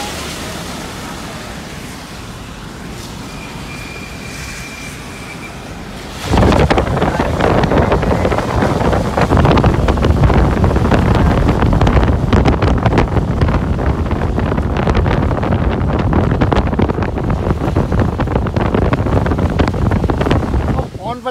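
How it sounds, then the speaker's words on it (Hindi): Strong wind roars loudly against the microphone during a road trip toward Manali, starting after a quieter opening stretch and then blasting steadily to the end. "हवा चल रही है बेहतरीन"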